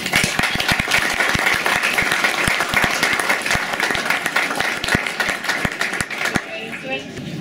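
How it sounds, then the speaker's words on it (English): Loud crowd applause greets honored guests at a hospital grand opening ceremony in Placerville, California, with many distinct hand claps over a steady wash, fading slightly before stopping. "So if we could give them all a big round of applause."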